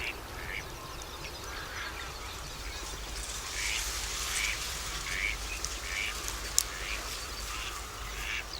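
Wintering geese and other waterfowl on the Villafáfila lagoons call repeatedly in a distant, overlapping chorus of honks and quacks, fairly faint over a steady background hiss.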